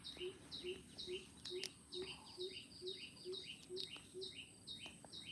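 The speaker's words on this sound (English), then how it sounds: "It's a bird." A small bird repeats a quick, bright chirp in a steady rhythm, fairly close and clear over a soft hum of insects.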